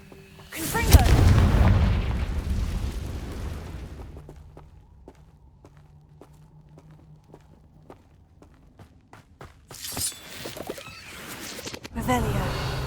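A Confringo fire spell from Hogwarts Legacy fires off as a loud booming blast with a long rumbling tail, followed by quieter clicks and footsteps and then another rushing burst. Game sounds only, nothing spoken.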